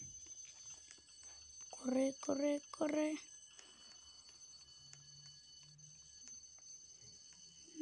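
A steady, high-pitched electronic nuclear bomb alarm tone from a video game drones throughout, while a voice briefly shouts a few quick Spanish words over it.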